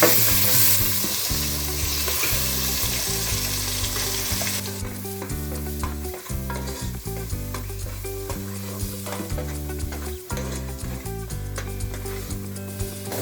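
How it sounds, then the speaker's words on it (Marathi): Finely ground masala fries in hot oil for spicy misal, a steady, close sizzle and stirring noise that runs throughout beneath continuous background music. "आणि लगेचच आपल्याला हा जो आपण बारीक मसाला वाटलेला तो या तेलामध्ये चांगला परतून घ्यायचा"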